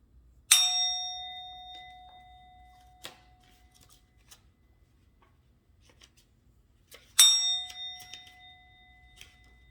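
A bell is struck twice about seven seconds apart; each strike rings out with a bright, sustained metallic tone that slowly fades in an otherwise quiet room.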